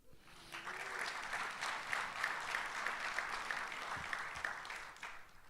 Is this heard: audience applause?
yes